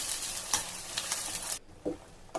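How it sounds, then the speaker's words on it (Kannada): Ground masala stirred into sautéed onions in a hot pan for a fish curry, giving a loud continuous sizzle with rhythmic spoon scrapes, then a quieter stretch broken by two soft knocks. "ಈರುಳ್ಳಿ ಬಾಡಿದ ನಂತರ ಅದಕ್ಕೆ ರುಬ್ಬಿರುವಂತಹ ಮಸಾಲೆಯನ್ನು ಹಾಕಿ ಚೆನ್ನಾಗಿ ಮಿಕ್ಸ್ ಮಾಡಿ"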